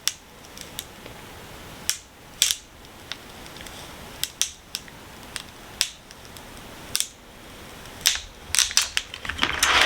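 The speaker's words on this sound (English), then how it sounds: "start peeling back the transfer tape at a 45-degree angle" Transfer tape is peeled back from a vinyl decal on a concrete piece, giving a run of sharp, close crackling snaps at irregular intervals that grow denser and louder toward the end.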